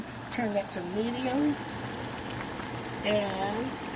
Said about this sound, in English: That is boiling there